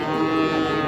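A single loud, close moo from a Friesian or crossbred calf at a rural weekly livestock market in Dinajpur, Bangladesh, a short sustained low bellow lasting under a second.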